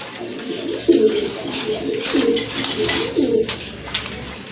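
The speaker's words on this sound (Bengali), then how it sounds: "এখানে কিন্তু আরেক জোড়া রাজগোল্লা কবুতর দেখতে পাচ্ছেন" Rajgolla pigeons at a pigeon sale coo in close, repeated rolling calls, several soft throaty bursts in a row with no talking over them.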